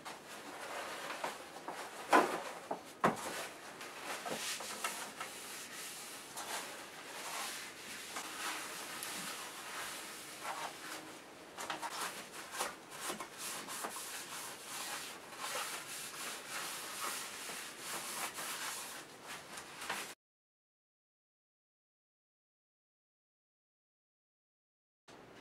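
A rag wiping finish across the wooden body of a DIY Les Paul-style guitar kit, a steady soft rubbing hiss for about twenty seconds, close and fairly faint, then abrupt silence.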